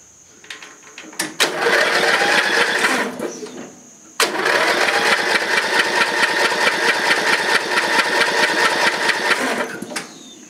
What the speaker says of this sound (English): But we'll check with the inline tester here while it's running.